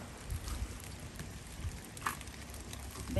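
Rain falling steadily on a garden just planted with mustard greens, a dense even patter with scattered louder drops, heard outdoors with no talking.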